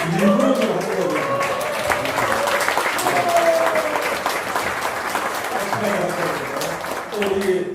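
Strong, sustained applause fills a graduation and appointment ceremony for a unification mission training course, a dense steady clatter of many hands with some voices mixed in throughout.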